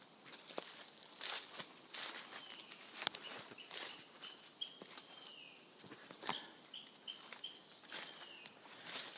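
Scattered high, whistled tropical bird calls in a quiet Costa Rica forest, with soft footsteps crunching on a trail and faint insect hum behind.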